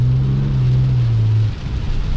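Heavy rain pouring on a Ram 2500 pickup truck moving along the road, a dense hiss over a loud low engine hum that drops off partway through.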